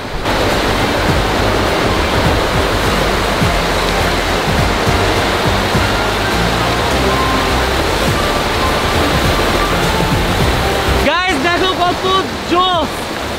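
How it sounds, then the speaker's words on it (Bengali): A powerful waterfall at Remakri in Bandarban roars loud and close in a dense, unbroken rush of water, with some brief tonal chirps breaking through near the end. "আমি আমার লাইফে ফার্স্ট টাইম এরকম টাইপের পুরো ঝর্ণা দেখলাম"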